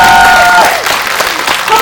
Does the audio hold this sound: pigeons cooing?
no